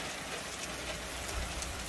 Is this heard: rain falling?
yes